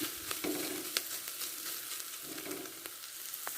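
Grated coconut sautéing in a pan, a soft continuous sizzle broken by light stirring clicks and scrapes, close and moderately quiet, with no talking.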